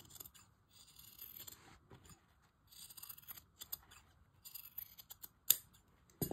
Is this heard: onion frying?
no